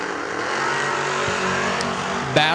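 Dodge Dakota pickup trucks drag racing produce a sustained, loud engine roar that holds steady across the run and is capped by a brief sharp burst near the end, with no talking.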